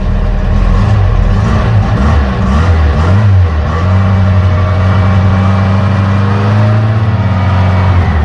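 An upgraded car engine runs steadily and loudly close by, with a few revs that swell and settle back to a smooth, even idle.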